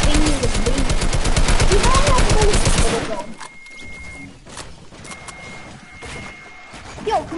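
A drum gun submachine gun fires in a video game: about three seconds of loud, rapid continuous automatic fire that cuts off abruptly, leaving quieter background game sounds.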